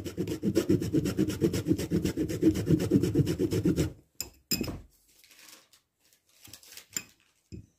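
Steady rhythmic rasping of an ingredient being grated on a fine kitchen grater, a close, continuous back-and-forth scraping for about four seconds, then a few brief clinks and handling sounds.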